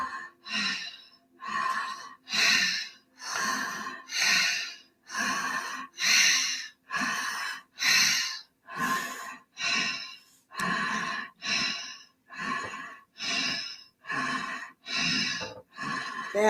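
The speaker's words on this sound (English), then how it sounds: "Keep breathing" Slow deep breaths in a guided breathing meditation, about a dozen and a half long, airy inhales and exhales in a steady rhythm, close and fairly loud, with no talking over them.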